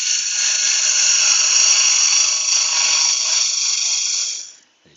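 A drill runs steadily during woodturning work on a lidded box, a loud high-pitched whine held for about four seconds before cutting off abruptly.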